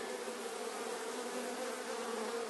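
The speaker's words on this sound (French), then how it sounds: "Donc là j'ai la grappe d'abeilles." A dense cluster of honey bees buzzes steadily while a swarm is being hived, a close, continuous droning hum that holds an even level throughout with no voices.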